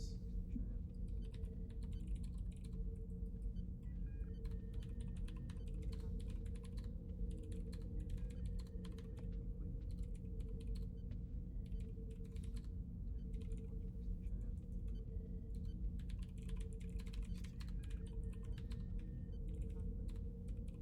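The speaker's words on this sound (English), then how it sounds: "All this furious typing noises makes me nervous." Rapid, continuous clicking of keys on a computer keyboard over a steady low hum, with brief pauses in the fast typing.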